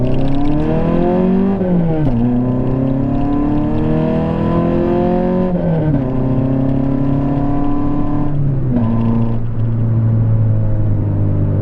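A Peugeot 206 engine with its check engine light on revs up under throttle, pitch climbing in smooth rising sweeps that drop back at each gear-like step, loud and close, with no talk.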